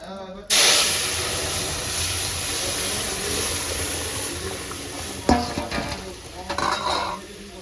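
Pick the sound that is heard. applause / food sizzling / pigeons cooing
food sizzling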